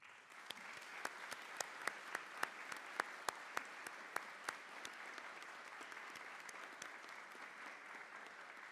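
A university ceremony audience claps steadily, a broad crowd applause with a few sharp nearby claps standing out in the first half, then settling into a softer continuous patter.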